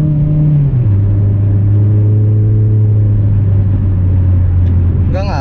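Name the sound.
Toyota MR2 engine accelerating in overdrive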